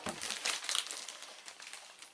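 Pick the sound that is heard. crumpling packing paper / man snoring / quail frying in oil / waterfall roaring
crumpling packing paper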